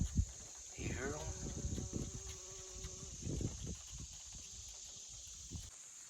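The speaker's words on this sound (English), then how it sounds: "A lot of bees are still pollinating these things." Bees buzz faintly in an open-air vegetable garden, a soft droning with a few louder passes close by, over steady outdoor background noise.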